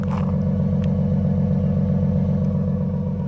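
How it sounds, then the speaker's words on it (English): A 2023 Toyota Sequoia TRD Pro engine idles with a steady, deep, throbbing exhaust burble, heard up close and continuous with no voices. "Has a really nice exhaust note when it's on."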